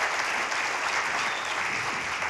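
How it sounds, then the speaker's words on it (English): Steady, dense applause fills the room from a lecture audience at a Florida Oceanographic Society talk, sustained without a break throughout. "let's give Zach a big round of applause for organizing this year's lecture series"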